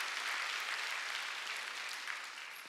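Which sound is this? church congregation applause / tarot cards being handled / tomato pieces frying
church congregation applause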